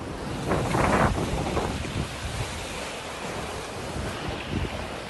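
Steady wind roars across the microphone aboard a racing sailboat in the trade winds during a transatlantic race, with ocean waves rushing and surging along the hull in a continuous, loud wash.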